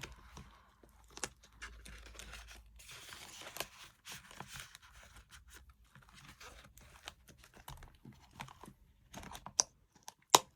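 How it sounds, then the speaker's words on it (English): Paper and cash handled and slipped into a budgeting envelope: soft crinkles, rustles and small taps scattered through the stretch, fairly quiet and close, with no talking. "I'm just going to put my little note and my money back in the envelope"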